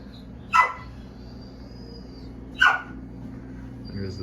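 Two sharp dog barks, a few seconds apart, over a quiet background with a faint high whine.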